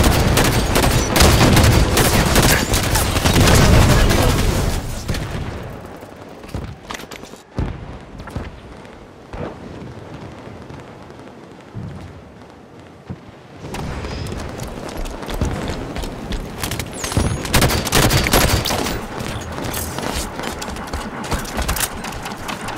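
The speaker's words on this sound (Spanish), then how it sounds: "¡El enemigo nos está disparando!" Enemy gunfire in Halo 5: Guardians Warzone on the Skirmish at Darkstar map, dense loud volleys of rapid shots that thin out briefly mid-clip before heavy firing resumes.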